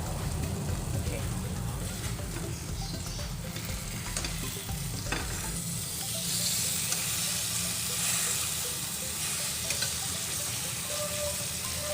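Lechon pork belly cooking in a Salad Master pan, a constant loud sizzle with scattered pops and hissing steam, with a voice speaking briefly over it.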